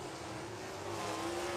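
A race car at Southern Raceway during a USCS Outlaw Thunder Tour event drones past at the checkered flag, its engine a sustained, moderately distant roar with a slowly shifting pitch.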